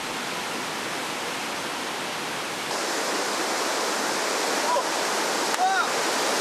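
Loud, steady roar of Khone Phapheng Falls in Laos, a dense wash of rushing water that swells slightly partway through, with a couple of faint chirps above it.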